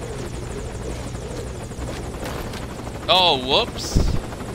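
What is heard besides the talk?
helicopter, from video game Metal Gear Solid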